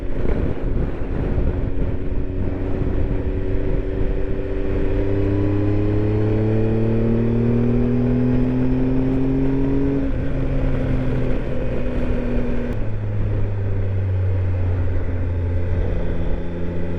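A motorcycle engine stuck in third gear climbs Loveland Pass near Silverthorne, Colorado, its steady drone rising and falling in pitch as the throttle rolls on, under constant heavy wind buffeting with no talk.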